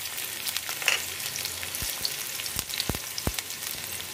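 Chopped ginger and garlic fry in a little refined oil in a kadhai for a momo stuffing, a steady close sizzle with a few sharp spatula knocks against the pan.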